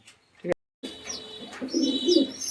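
A red-headed pigeon coos softly in low, repeated murmurs after a brief sharp sound, with faint chirping and background noise around it.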